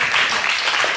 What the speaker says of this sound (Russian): Аплодисменты Илье.